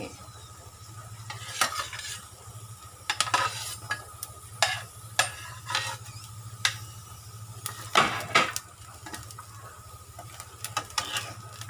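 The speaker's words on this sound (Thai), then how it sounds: "จากนั้นก็จะเอาหอมกระเทียมลงคั่วเลยนะคะ" Shallots and garlic dry-roast with a quiet sizzle in a hot iron wok while a utensil scrapes and stirs in irregular bursts, with a low steady hum in the background.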